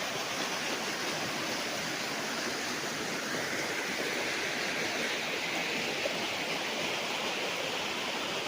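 River running along the boundary of a farm lot in Majayjay, Laguna, a steady broadband rush of flowing water, close and unbroken, with no voices.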